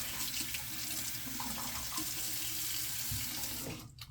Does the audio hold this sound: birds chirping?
no